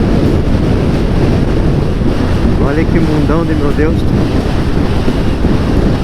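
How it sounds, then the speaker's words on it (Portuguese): Strong wind buffets a motorcycle helmet on gravel-bordered Ruta 40 in Patagonia, making a loud, constant, rumbling roar that fills the whole stretch. Someone speaks briefly partway through, nearly drowned out by the gusts. "O que é esse vento agora, hein? A gente quase não consegue nem falar no capacete."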